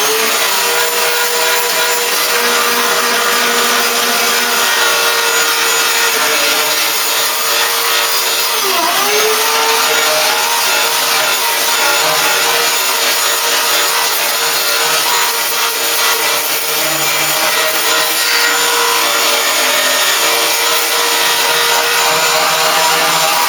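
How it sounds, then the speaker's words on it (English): A croc sander cleaning up the bodywork of a Mk3 Ford Cortina under restoration, droning loud and continuous up close, with grinding rasp and slight pitch dips as it bears on the metal. "Right, so I'm going to get the croc sander in."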